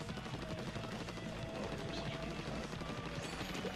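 Rapid, continuous firing of an ink weapon in Splatoon, a steady stream of quick pops held at an even level, fairly faint.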